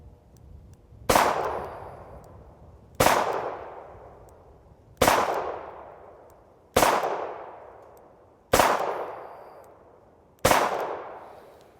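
Six double-action shots from an Armscor M200 .38 revolver at 15 yards, each a loud sharp crack with a ringing decay, fired at a steady pace about two seconds apart, with no talk.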